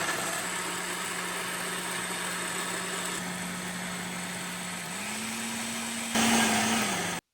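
A steady motorized whir from a mixer grinder grinding masala paste runs without pause, its pitch rising slightly near the end before cutting off abruptly.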